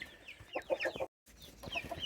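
Hens on a homestead cluck in quick, close bursts, with a brief silent gap between the two runs of clucking.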